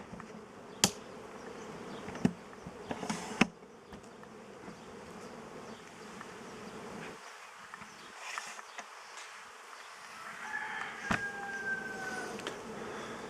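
Honeybees buzz around a beehive outdoors, a continuous moderate hum of many insects with a few sharp knocks and clicks near the start and a brief higher whine later, no speech.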